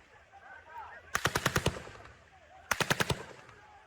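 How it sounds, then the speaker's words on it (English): Two bursts of automatic machine-gun fire with live ammunition, roughly six rapid shots each, crack out sharply over a low, steady background hum, separated by a short pause. "they could identify live ammunition, including machine gunfire, coming from the sites"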